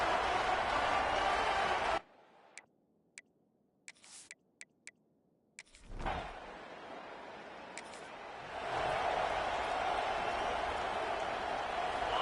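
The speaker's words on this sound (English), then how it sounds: "Listen to the crowd energy here in the early going." Stadium crowd noise in the EA Sports College Football video game at a Crimson Tide game, a loud broadband roar that drops away for a few seconds with scattered clicks, then swells back and holds steady.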